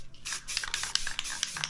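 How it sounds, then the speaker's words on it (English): Short hissing bursts of a spray paint can used for painting a shattered planet artwork, several quick sprays in a row, close and fairly loud with no talking. "So I've been able to optimize when and where I tap the spray can."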